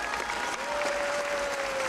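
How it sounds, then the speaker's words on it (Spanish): A crowd claps steadily for a contestant at a town pageant in Ixmiquilpan, Hidalgo, a dense, sustained round of applause with a faint voice underneath. "Un aplauso para ella,"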